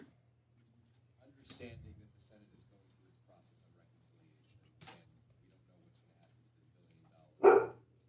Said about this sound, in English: the dog's angry.